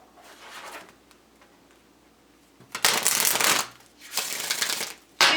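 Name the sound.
shuffling tarot wisdom cards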